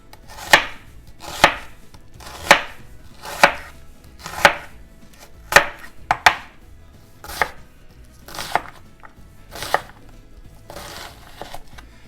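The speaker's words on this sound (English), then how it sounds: "Let's do a rough chop on some onions." A knife rough-chops onions on a cutting board with about a dozen sharp, evenly spaced chops, close and crisp in a quiet kitchen.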